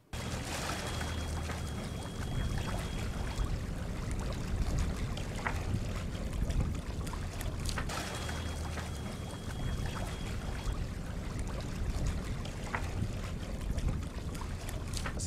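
Salona 34 sailing yacht moving through calm water in a slight breeze on the Gulf of Trieste, a soft continuous wash and trickle of water along the hull with light wind noise, fairly faint and steady.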